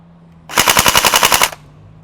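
An LCT AK airsoft rifle fires on full auto: a single loud one-second burst of about ten rapid, evenly spaced snapping shots, sharp and close against a quiet background.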